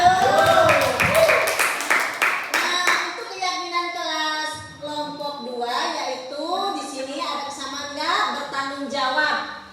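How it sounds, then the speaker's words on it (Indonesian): Students in a classroom clap for group 1 during a lesson on positive class culture. About three seconds of brisk, close applause stop sharply, and children's voices talk afterward. "Tepuk tangan untuk kelompok 1"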